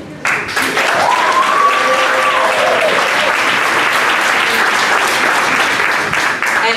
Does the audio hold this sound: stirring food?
no